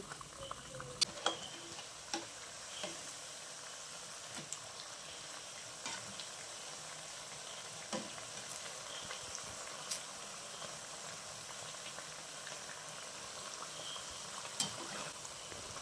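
Banana pakoda fritters frying in hot oil, a faint, steady bubbling hiss over a long stretch with scattered soft pops and occasional small clicks.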